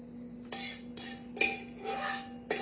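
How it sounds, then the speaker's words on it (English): Meringue being beaten in a bowl at home, a whisk or beater striking the bowl in bursts, several loud clattering strokes with brief pauses between them, heard close up with no voices. "You hear me beating this bowl, don't you, girl?"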